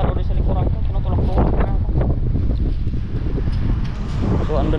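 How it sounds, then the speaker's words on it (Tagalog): Strong typhoon wind buffets the microphone outdoors in Taiwan, a constant loud rumbling roar with gusty surges across the whole span, and a voice talking faintly underneath. "malakas na yung hangin mga kadudoy sa likuran ko, tinutulak-tulak na ako."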